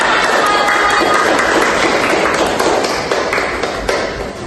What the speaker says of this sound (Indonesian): Pintar sekali anak-anak, tepuk tangan.